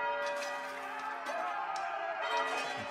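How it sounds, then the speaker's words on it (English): Church bells toll in The Banner Saga 3, a faint, steady ringing with sustained tones under a low game backdrop, with a quieter rise partway through. "Tolling of the bells, what is it now?"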